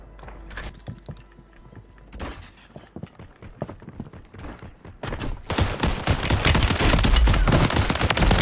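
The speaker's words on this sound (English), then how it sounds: "Mate, how many people are shooting me here?" Gunfire in a video game shooter, with a shotgun among the weapons: scattered shots early, then a loud, dense burst of rapid automatic fire in the last few seconds that swells close and fills the mix.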